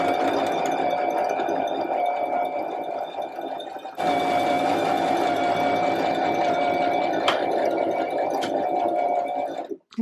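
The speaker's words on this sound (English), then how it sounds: "I'm going to take this edge here and just sew right over the top of it" A sewing machine stitches steadily over a fabric edge on flared trousers, its motor humming continuously for about ten seconds with a brief shift midway and a few clicks near the end.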